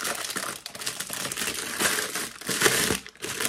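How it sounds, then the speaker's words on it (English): Close, crinkly rustling of paper or plastic, continuous and uneven, with no talking. "Sorry for the rustling."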